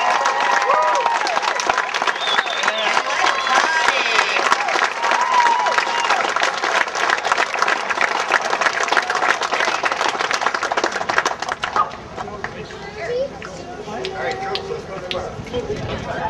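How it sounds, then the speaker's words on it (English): A crowd at a soldiers' homecoming event claps and cheers steadily for over ten seconds, dense and loud, before thinning out toward the end amid background voices. "everybody give one last round of applause to our guys"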